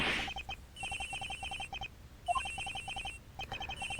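A phone in the Edgeworth Investigations video game rings with rapid, repeating electronic trills in regular bursts, each separated by a short pause. The ringing is clear and fairly loud, with no talking over it.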